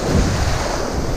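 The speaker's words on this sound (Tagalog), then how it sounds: "Nasampal ako ng alon." Rough, continuous ocean surf noise with wind buffeting at a windy fishing spot, a broad washing roar of waves splashing close by.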